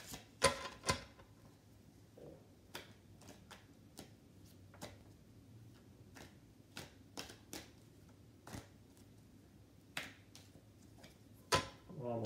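Tarot cards shuffled: soft riffling and sharp card snaps repeat at irregular intervals, quiet and close, over a faint low background hum.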